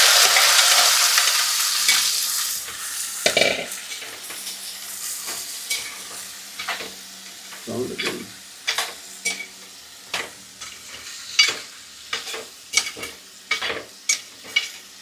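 A mixture of dried prawn and jackfruit seeds sautés in a pan for a thiyal, starting with a strong sizzle that fades, then a run of sharp spoon-on-pan scrapes and taps that quicken and grow louder toward the end.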